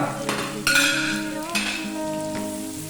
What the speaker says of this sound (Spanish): Ya tenemos nuestro ajo saltando, como se suele decir.